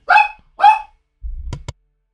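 A small dog gives two sharp barks close by, followed by a short low scuffle and a pair of clicks, then silence.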